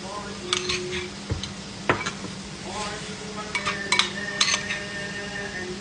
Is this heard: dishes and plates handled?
yes